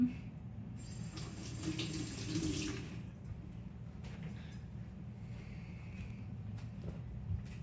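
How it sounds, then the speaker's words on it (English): Tap water running into a kitchen sink while hands are rinsed after cracking eggs for banana bread, a steady close rush of water with brief splashing early on and no talking. "I rinse my hands immediately"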